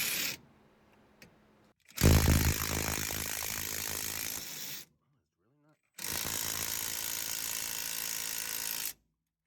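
A wrench works against a stuck brake caliper bolt in two loud bursts of ratcheting, grinding metal scraping, separated by near silence, with a brief quiet stretch at the start.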